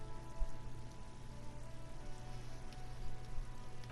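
Steady rain falls in the game Disco Elysium, a soft, continuous patter on surfaces over a low ambient hum, with no voices.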